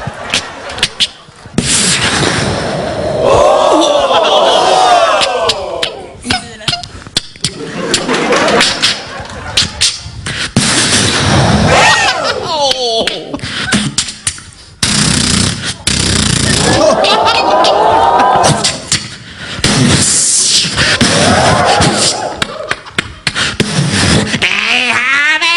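A performer's voice imitates gunfire in a shooting game with rapid beatboxed bursts, choppy and loud, broken by short gaps and repeated over and over.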